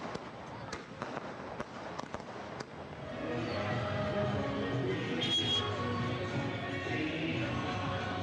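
A rapid series of sharp firecracker pops crackles for a few seconds at a celebration in Assam, India, then gives way to a loud, steady din of crowd noise and voices.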